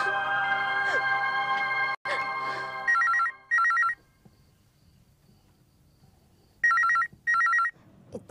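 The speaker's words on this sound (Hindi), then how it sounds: "इतनी रात को किसका फोन है?" A telephone rings late at night in a home, two paired electronic ring bursts, then a pause and another pair, loud and close, following a stretch of dramatic music.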